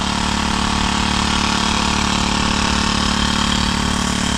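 A grass cutter engine runs at a farm, giving a loud, steady, continuous drone with no pauses and no voices.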